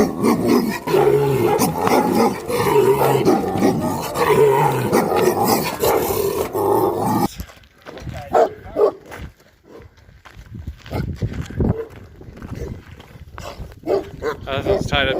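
Dogs at a Mongolian nomad camp, one tied to a car, bark and growl in loud bursts mixed with talking, then quieter sporadic barks follow after an abrupt cut.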